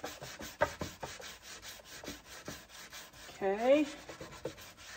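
Scrub Daddy sponge with a squirt of dish soap scrubbing a surface, a steady rhythmic rasping rub close to the microphone, with a brief squeaky smear partway through and a short spoken word.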